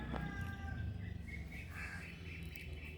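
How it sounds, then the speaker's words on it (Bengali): Birds call faintly in the open air as a flock takes off, brief chirps and caw-like cries over a soft outdoor hush, distant and quiet. "ব্যাস, পাখিগুলো উড়ে যাচ্ছে"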